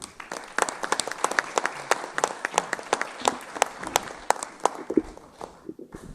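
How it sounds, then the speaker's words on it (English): A dinner audience at a Sikh community center claps for a moderator, a modest crowd whose individual hand claps stand out as sharp, separate snaps before tapering near the end. "He deserves a little bit more warm applause than this."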